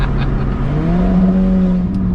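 An Alfa Romeo 4C accelerates hard, its engine note climbing steadily in pitch as it revs up, loud and close, with a brief gearshift dip near the end and no talk.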